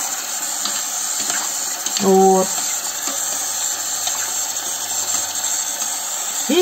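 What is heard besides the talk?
water running while draining pasta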